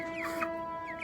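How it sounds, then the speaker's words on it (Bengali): Native chickens at feeding time, a few short clucks and squawks close by over a faint background hum, lasting about a second. "আর এখন আমি এই মুরগিগুলোকে খাবার দিব।"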